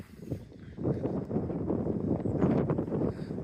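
Wind gusts buffet the microphone outdoors near a church, a continuous low rumbling rush that swells and stays fairly loud throughout.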